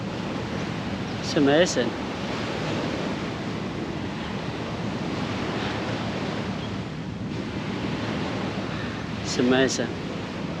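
Sea waves washing steadily onto the shore at a Singapore park, a constant broad surf roar with some wind buffeting the microphone, and a voice speaking briefly twice over it.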